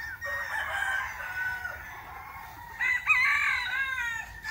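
Roosters crowing at a poultry farm, two long cock-a-doodle-doo calls one after another, fairly close and clear over a quiet background with faint clucking.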